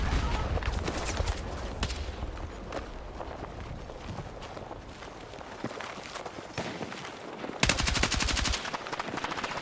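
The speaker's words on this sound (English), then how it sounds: "Where's that guy shooting from?" Rapid automatic gunfire bursts crackle in the video game Battlefield 6, some distant and some close, mixed with running footsteps and a dense, loud volley near the end.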